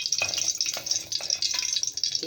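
Sliced meat frying in hot butter in a pan gives a close, steady crackling sizzle with small spits and stirring clicks throughout, no voices present.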